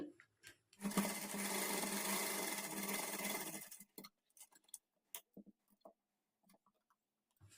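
Sewing machine stitching a blouse sleeve runs in one steady burst of about three seconds, then stops, followed by scattered soft handling clicks and taps.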